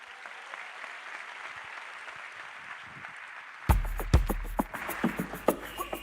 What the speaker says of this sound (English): A round of applause for Stephen Soti and his choir